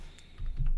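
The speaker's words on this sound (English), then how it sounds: "I'm going to type this IP address" A few quick keystrokes tap on a computer keyboard while an IP address is typed in to connect to a Raspberry Pi, close and crisp with a faint hum underneath.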